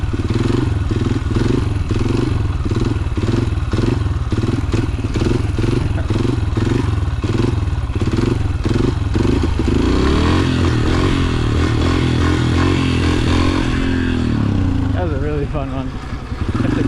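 Dirt bike engine lugging at low revs while riding, a loud, steady throbbing drone with pulsing chugs throughout, with voices talking over it.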